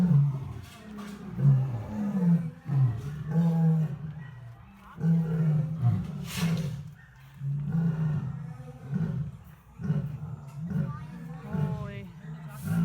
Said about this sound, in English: all of a sudden the whole place just erupts in like everything roaring and screaming